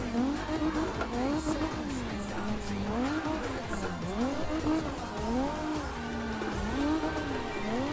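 A car drifting in CarX Drift on a canyon run, with a loud engine revving and wavering continuously in rising and falling sweeps as tires squeal, close and steady throughout.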